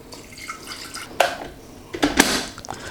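Cold water runs into a kettle in a home kitchen, with a few short splashing and dripping bursts at close range and no talking.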